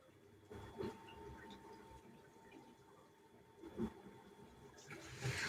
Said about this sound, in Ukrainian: Спрацьовують і спрацьовують розповітрювачі.